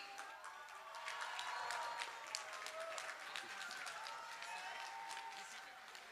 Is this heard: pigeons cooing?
no